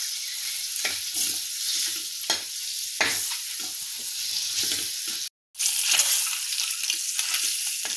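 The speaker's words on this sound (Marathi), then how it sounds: "हे बघा, ही अंडी छान तेलामध्ये भाजली गेली." Whole eggs, likely boiled, sizzle steadily in hot oil for an egg curry, with a loud continuous crackle broken by occasional stirring strokes and a brief dropout near the middle.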